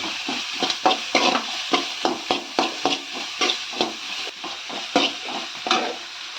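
Vegetables sautéing in a pan for veggie idli, with repeated stirring scrapes and soft clatter in a steady rhythm over a light sizzle, close and moderately loud, with no voices.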